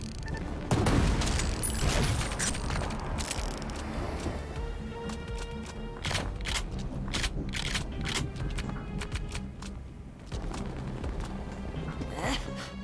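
Uzi gunfire in the shooter Ion Fury, sharp bursts of shots spread through the scene amid mechanical clatter and game noise, mid-level and fairly close.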